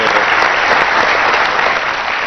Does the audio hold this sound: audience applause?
yes